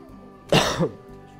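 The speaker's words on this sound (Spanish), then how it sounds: "Disculpad la tos." A single short cough, close and sharp, with a quiet hum in the background.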